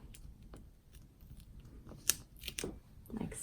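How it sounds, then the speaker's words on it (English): Adhesive backing peeled off a small cut paper piece for a handmade owl greeting card, close quiet crackling and rustling with a couple of sharp ticks and a soft tearing rasp near the end. "Just peel off the back."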